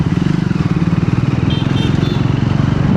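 A Triumph Scrambler 400X motorcycle engine runs while being ridden, a close, loud, steady rapid pulsing thrum with a few faint higher tones over it.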